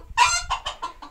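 Dwarf chickens and a dwarf rooster cluck close by in a quick series of throaty calls, with a soft background rumble.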